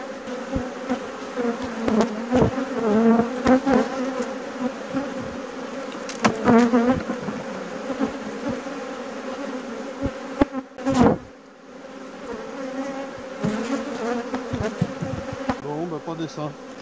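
Honeybees buzzing around an open beehive during autumn hive work, a steady close hum with individual bees droning past the microphone, faint handling noises and no clear talk.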